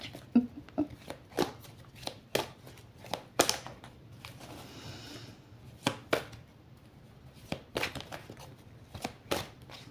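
Tarot cards shuffled by hand, giving a brisk run of sharp papery riffles and slaps at an uneven rhythm, close and fairly quiet, with a brief softer swishing stretch in the middle.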